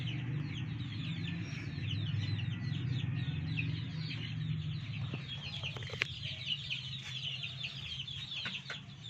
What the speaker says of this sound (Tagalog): Lahi po yan ng manok ni Blue Blade, Sony Lagoon.